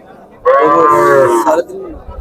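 At a Noakhali cattle market, a cow lets out one loud, close moo lasting about a second, rising strongly and then fading, with faint crowd noise around it.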